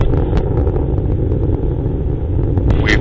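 Phoenix Mars lander launch in August 2007: a loud, continuous low roar from the solid rocket motors, steady and dense, with faint crackle throughout.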